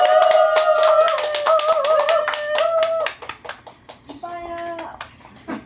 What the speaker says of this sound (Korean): 멋지게 사업을 진행하실 수 있게 큰 박수로 환영해 주시기 바랍니다